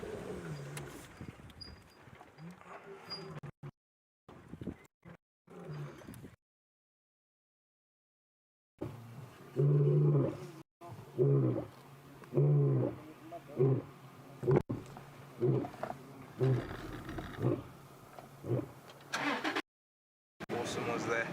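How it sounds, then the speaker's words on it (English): Deep, loud roaring from a big wild animal on a safari game drive, heard in several powerful bursts with people talking quietly around it. "I could hear that was a much louder and deeper roar"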